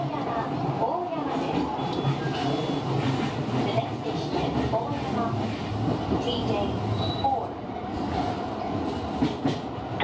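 A Tobu Tojo Line train runs between Kamiitabashi and Ikebukuro on a short stretch between closely spaced stations, giving a steady rumbling roll with rhythmic wheel clatter and faint squeals. Someone narrates over it.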